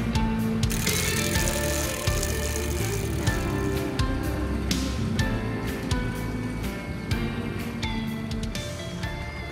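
A 1981 Schwinn Le Tour bicycle wheel spins freely, its freewheel giving a steady, close ratcheting buzz with occasional sharper clicks throughout.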